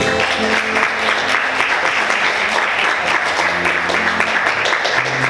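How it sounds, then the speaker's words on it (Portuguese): Church congregation applauding during a sermon, a dense, loud wash of clapping from many hands with faint tonal sounds underneath, sustained throughout. "Vamos aplaudir o Senhor, amém?"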